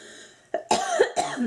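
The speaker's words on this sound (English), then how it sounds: "I did inhale a little of the butane there, so excuse me while I cough." Someone coughs after inhaling a little butane, a couple of sharp close coughs with a throat-clearing catch in between.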